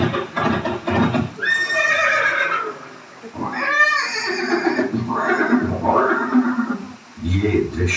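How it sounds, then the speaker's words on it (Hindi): A horse neighs with loud whinnies in a scene of Maharana Pratap and his loyal horse Chetak, mixed with hoof clip-clop and a voice speaking over much of it. "ये दृश्य महाराणा प्रताप और सुविख्यात स्वामी भक्त घोड़े चेतक के अंतिम मिलन का है"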